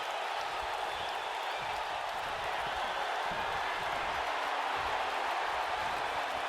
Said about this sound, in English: Feeling the energy of the crowd right now.